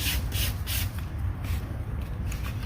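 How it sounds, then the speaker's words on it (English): Soapy sandpaper on a sanding block rubs across automotive clear coat to remove orange peel, making a steady wet swishing hiss in repeated back-and-forth strokes, close and even. No talking is heard. "we do a little bit of soap. It just kind of helps the sandpaper glide across the surface a little bit better"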